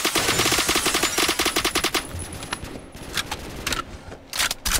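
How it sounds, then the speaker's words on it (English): Rapid automatic machine gun fire in the Roblox shooter Phantom Forces, a loud, fast rhythmic burst for about two seconds, then scattered single shots and shorter bursts further off. "We're just shooting at random."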